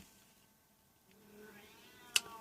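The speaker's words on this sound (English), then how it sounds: "You can probably hear my cat crying in the background." A faint, drawn-out cat meow rising in the background against a quiet room, ending with a sharp click.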